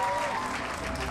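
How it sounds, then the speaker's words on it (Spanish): Guests at a quinceañera party break into a brief, steady round of clapping, a dense patter that fills the room for about a second. "ese fuerte aplauso"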